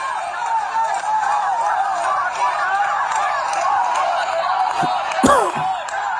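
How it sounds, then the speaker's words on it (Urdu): A crowd of political workers in Lahore chants the "lota lota" slogan in a steady, continuous roar of voices, loud and sustained, with a few sharp knocks or slaps near the end. "اب یہ جو لوٹے لوٹے کا نعرہ ہے یہ کافی دیر تک چلتا ہے"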